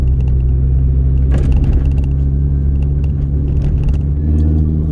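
A Mini Cooper S GTT220 being driven gently, heard from inside: a steady low engine drone and road rumble with faint mechanical clicks and rattles, moderately loud and continuous.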